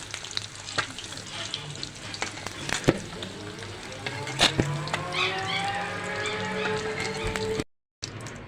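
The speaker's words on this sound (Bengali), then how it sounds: "বন্ধুরা দেখুন ডিমগুলির আমি লাল লাল করে বেজে নিছি এখন উঠিয়ে নেব" Eggs fry in hot oil with a close, crackling sizzle and scattered sharp pops, joined by light scraping of a utensil, before a sudden brief dropout near the end.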